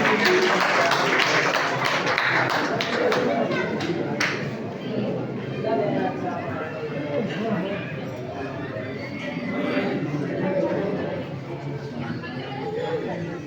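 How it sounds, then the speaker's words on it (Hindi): Audience clapping welcomes a speaker at a district-level Koli community gathering in Panipat. A burst of claps in the first few seconds blends into steady crowd chatter that continues throughout. "नेहा जी, जोरदार तालियों के साथ स्वागत करते हैं।"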